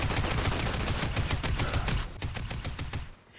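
Tactical Assault Rifle in Fortnite firing rapid automatic bursts, a dense run of sharp loud shots for about three seconds, then a few spaced shots before cutting off.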